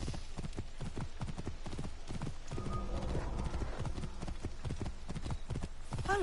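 A horse gallops in Assassin's Creed Origins, its hooves clip-clopping in a quick, steady rhythm close by and loud throughout, with a short whinny near the end.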